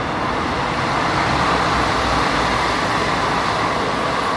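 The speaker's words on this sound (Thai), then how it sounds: "เนี่ยรถไฟก็จะผ่าน" A train passes beside a plantation fringed with bamboo on a foggy day in upper southern Thailand, heard as a steady, fairly loud broadband rumble that holds evenly throughout with no voices.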